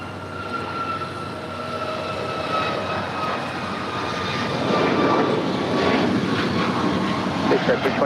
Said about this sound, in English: Air Canada Flight 776 heading to Montreal in a 737 MAX 8, now rolling down 25